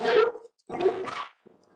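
A dog vocalizes in a played recording, heard as two or three loud, drawn-out barking and whining bursts with short gaps between them and a fainter yelp at the end.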